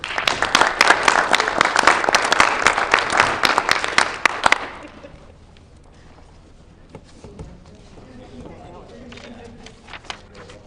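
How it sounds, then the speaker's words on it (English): Loud, dense clapping from a school board meeting audience honoring student award winners rings out for about four and a half seconds, then stops abruptly, leaving faint room noise and scattered small sounds. "Let's give them a round of applause."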